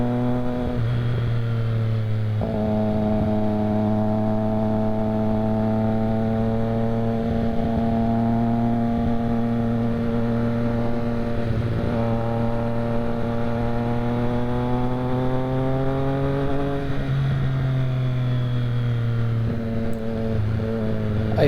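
A Triumph Street Triple R motorcycle's exhaust drones steadily while riding, a loud, close, sustained engine tone whose pitch rises and falls with throttle changes and gear shifts, with no talking.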